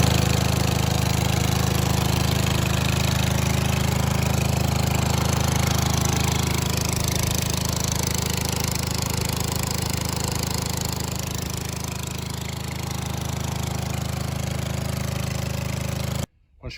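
The 23hp Kohler engine on a 2004 Ariens Zoom 2352 ride-on mower, with gas in the oil and smoking, runs at a steady loud drone for about sixteen seconds, dips slightly midway, then cuts off abruptly at the end.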